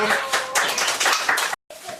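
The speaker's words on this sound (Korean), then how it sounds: "박수" A congregation at a church Christmas service claps in a quick burst for about a second and a half, with voices mixed in, then a brief silence and a faint murmur.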